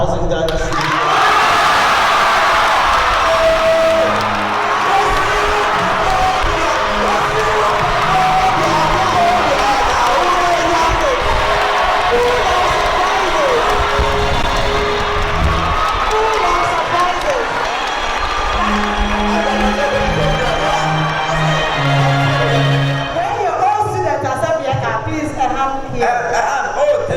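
Students at a school's 70th anniversary fundraising event clap and cheer as one loud, continuous crowd, with whoops and shouts over dense applause, and a voice on a PA speaks through it.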